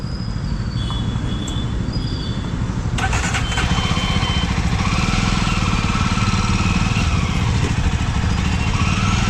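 A motorcycle engine starts as riders prepare for a group bike ride to Penukonda Fort in Andhra Pradesh. A quieter idle gives way to a sudden catch and a loud, close, steady engine run that continues to the end.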